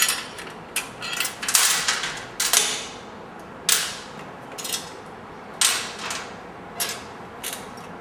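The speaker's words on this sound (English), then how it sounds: "Removing two banding strips." Metal banding strips coming off the exhaust of a Triumph Thunderbird 1600 motorcycle, heard as a series of sharp, close clicks and snaps in an irregular rhythm, with no talking.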